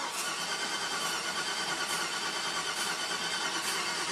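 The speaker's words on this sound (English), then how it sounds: "I'm just going to floor it and crank it" The engine of a 2009 Chevy 3500HD truck with high mileage and a no-compression fault is cranked with the throttle floored, a steady, loud, even churning of the starter turning the engine over with no catch.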